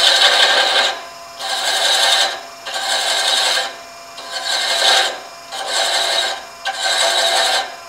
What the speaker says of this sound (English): Now as I chase that, I'm getting a really pretty nice shaving from that.